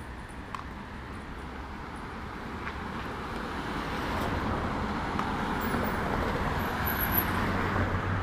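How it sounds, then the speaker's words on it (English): Early-morning weekday road traffic, a continuous moderate wash of passing cars heard from a distance, steady and growing slightly louder, with no voices. "lots of traffic this morning"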